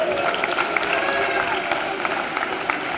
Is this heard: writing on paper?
no